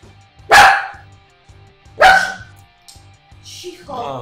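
Dogs give two loud, sharp barks about a second and a half apart, close by, followed by a softer whine, with a low steady hum underneath and no talking.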